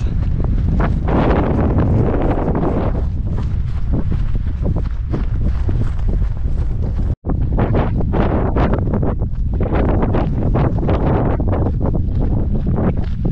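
Strong wind roars steadily into the microphone while walking into it on an open route across Bodmin Moor in Cornwall, a loud continuous buffeting broken only by a split-second dropout midway.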